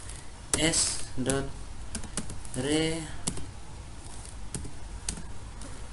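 Crisp clicks of a computer keyboard as JavaScript and Node.js code is typed, scattered taps and a few sharper keystrokes, with a person talking over the typing.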